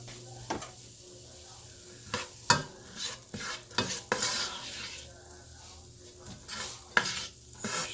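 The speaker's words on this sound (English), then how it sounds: "we're going to saute all of this together until tender over medium-high heat" A large onion sautéing over medium-high heat for chicken and wild rice soup, with a soft sizzle under repeated clinks and scrapes of a utensil stirring the pan.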